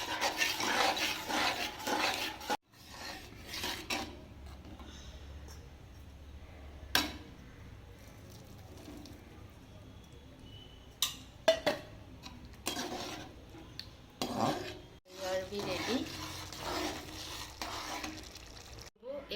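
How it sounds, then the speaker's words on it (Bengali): Yogurt is stirred into hot frying oil in a pan for a festival offering. Intermittent scraping and stirring strokes come in bursts, separated by quieter sizzling stretches, heard close up. "দইটা দিয়ে নাড়তে থাকবো।"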